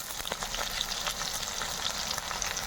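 Chicken perattu is stirred in a hot pan with sliced onions and curry leaves, making a dense, constant sizzle with faint scraping from the spoon, close and steady throughout, with no talking.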